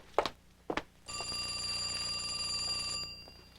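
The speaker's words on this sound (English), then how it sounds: "You were going to get a phone call." A telephone rings in a 1985 drama, a bright electronic trill lasting about two seconds, following two sharp knocks or clicks, fairly quiet and with no talk over it.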